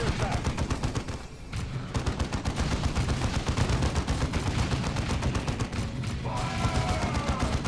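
Scouts shooting spore mines in the strategy game Dawn of War II, dense continuous gunfire and explosions with rapid rattling shots throughout, loud and unbroken.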